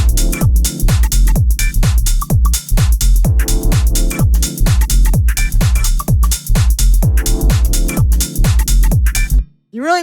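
Layered deep minimal house percussion, many stacked hits and shakers over a steady thumping kick, keeps a dense, driving groove loud and upfront, then drops out near the end with a short sweeping tail.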